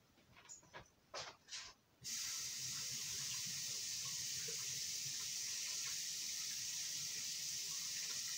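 Tap water gushing steadily into a sink to wash glue off a wooden spoon, a few soft handling knocks first, then a loud constant hissing stream that runs on unbroken.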